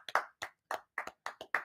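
Crisp hand claps in a quick, slightly uneven run of about eight to ten, close and dry with short silences between, cheering on a basketball play between the Chicago Bulls and Denver Nuggets; no voices.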